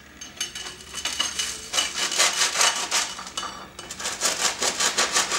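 A knife saws lengthwise through crispy, oven-warmed po-boy bread in a run of rapid rasping strokes, crunchy and close, with no talking.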